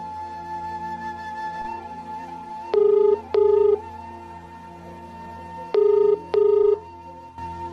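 A telephone rings twice, each ring a pair of short electronic tones, over a soft, steady musical background.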